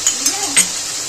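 Grated tomato goes into a sizzling spice paste in a pan while a shrimp dish is cooked, giving a sharp hiss with a few quick clinks of a utensil over about a second.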